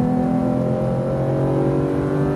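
A Porsche GT3 RS accelerates on a track, its engine a loud, steady, close roar with a strong tonal drone sustained through the short moment.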